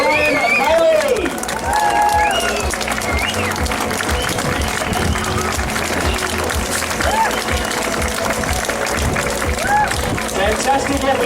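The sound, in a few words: crowd applause for a finishing duathlon athlete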